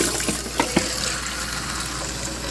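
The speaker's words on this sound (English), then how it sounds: "We're just going to keep adding hot water to melt all the ice that's in there." Hot water pours into a countertop Igloo ice machine to melt the ice inside, making a steady, close splashing rush with a few small knocks.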